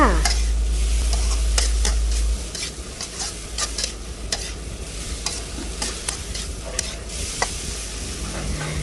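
A dry-style Thai basil stir-fry with dried chilies and dark soy sauce tossed in a pan, no water added: continuous close sizzling with rapid, repeated scraping strokes of the spatula, loud throughout.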